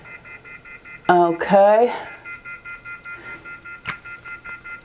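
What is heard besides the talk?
phone off the hook beeping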